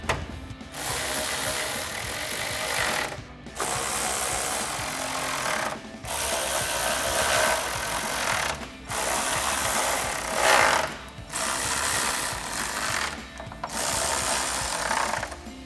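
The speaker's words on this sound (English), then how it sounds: "And then we'll tighten those down with our 10mm socket." Hand ratchet with a 10mm socket tightening bolts while fitting sequential LED projector headlights on a 2019-2023 RAM 1500, a dense steady clicking run in several long bursts broken by brief pauses, close and alone.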